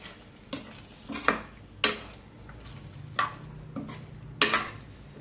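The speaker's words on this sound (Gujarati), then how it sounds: "એકવાર ફરી તેમને હલાવી લઈએ." Kathiyawadi dum aloo gets stirred in a pan, several distinct scraping sweeps of a spoon against metal at uneven intervals over a soft low sizzle.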